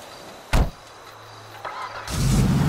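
A car in the GTA V video game, the Burger Shot Stallion: one sharp door-like thump, then a low idle hum, and an engine that swells loud and rough near the end, with no talking.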